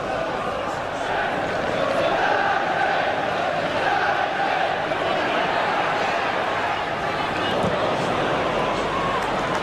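A large football stadium crowd cheers and roars steadily at a flowing Manchester United attack against Norwich City in a Premier League match, a dense, continuous wash of noise that barely rises or falls.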